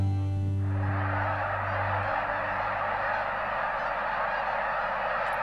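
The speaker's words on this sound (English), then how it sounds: "In October, snow geese arrive from the far north, like snow falling on the marsh." Snow geese over a coastal marsh in autumn: a flock's honking calls, loud and close at first, then melting into a dense, continuous chorus of overlapping cries from many birds.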